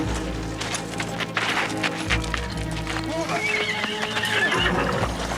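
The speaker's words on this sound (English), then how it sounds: "Stop that horse." A horse whinnies loudly amid a busy outdoor scene, hooves clip-clopping on the ground while voices shout nearby, the neigh rising and falling over the commotion.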